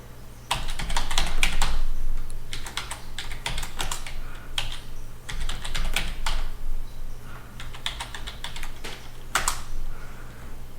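Typing on a computer keyboard while entering a password, with close, quick clusters of key clicks in bursts and short pauses between them.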